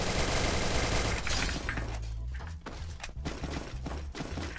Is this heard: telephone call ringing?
no